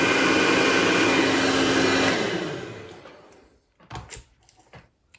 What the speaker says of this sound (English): Actually, I've got a blow dryer. I might just dry it a bit.